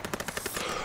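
Machine gun fire in the Call of Duty WWII video game: a rapid, steady burst of closely spaced shots, loud and near, with no voices over it.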